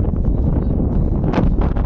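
Wind gusts across a hilltop on a waterfall trek, rumbling loudly against the microphone in a constant, buffeting roar with faint rustling.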